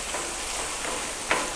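Food sizzles on a flat-top griddle while cooking smash burgers, a continuous close frying hiss with a brief sharper crackle near the end, no voices.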